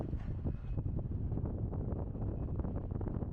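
Strong wind buffets the microphone on a high rooftop overlooking Madaba, Jordan, a steady dense rumble of gusts filling the whole span with no speech.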